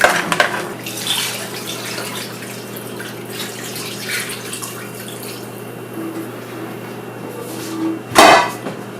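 Water poured into a cooking pot of sauce: a splashing pour at the start, then a quieter trickling hiss, a faint clatter partway through, and a sharp louder splash near the end, close by with no talk.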